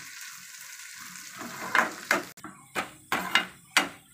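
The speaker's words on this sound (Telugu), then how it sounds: "తాలింపు రెడీ అయింది ఫ్రెండ్స్, వేగింది." Tempering for Andhra tomato pappu charu sizzles in a hot pan, several sharp crackling bursts and pops close up against a quiet kitchen.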